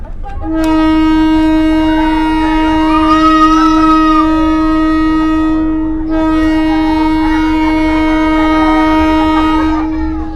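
Long sustained locomotive horn of the Bukit Serelo passenger train between Kertapati and Lubuk, a loud close steady blast with a brief dip in the middle, continuing for about ten seconds.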